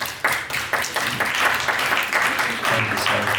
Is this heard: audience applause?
yes